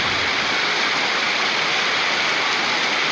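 Heavy rain pouring down outdoors near a temple in a hilly rural area, a dense, loud, unbroken roar of falling water filling the whole scene with no voices.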